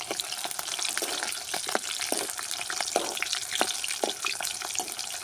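Garlic, cinnamon and green chilies sauté in a pan, crackling with a dense continuous sizzle broken by frequent sharp pops and spatters, fairly close and with no voices.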